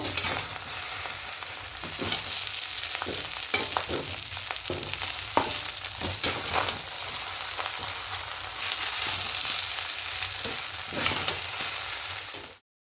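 Vegetable fried rice stir-fried with sugar, a spatula scraping and tossing it through a steady close sizzle with repeated sharp strokes throughout.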